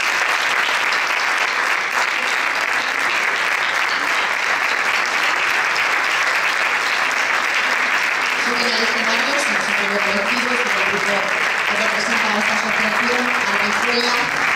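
Sustained audience applause fills the hall at an award gala as a group receives its prize, steady and loud throughout, with a voice speaking over it in the latter part.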